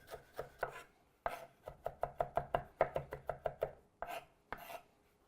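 Knife chopping shallot, garlic, sage, rosemary and thyme on a cutting board, a quick rhythmic run of crisp close taps with a few short pauses and separate strokes.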